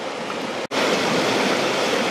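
A snuffer bottle of gold-panning concentrate is poured out in a steady, rushing gush of water and sediment. The pour breaks off for an instant near the start, then runs on continuously and fairly loud.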